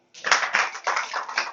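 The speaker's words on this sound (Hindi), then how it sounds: "ताली बजाओ" An audience at a home satsang gathering clapping hands in several quick, uneven bursts, moderately close and alone without speech, starting abruptly after a brief silence.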